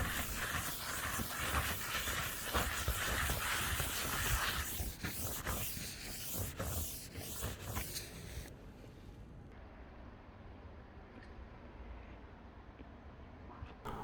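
A soft-bristle hand brush scrubs dirt off a rubber roof, giving steady, loud, scratchy broadband scrubbing for about eight seconds before settling into a quieter hiss.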